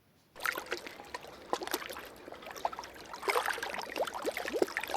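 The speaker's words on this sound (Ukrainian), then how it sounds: "Так рухається човен." Water sloshing and splashing in uneven strokes, like oars dipping as a rowing boat moves along, with a steady watery background.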